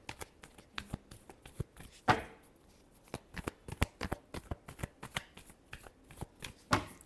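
Tarot cards are shuffled by hand in quick repeated riffles and taps, a close, crisp series of short bursts with a few louder snaps and no talking.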